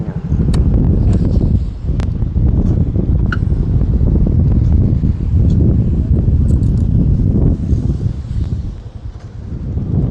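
Strong wind blows at a fishermen's boat landing in Kampung Matras, Bangka, buffeting the microphone with a loud, continuous low roar that briefly eases near the end.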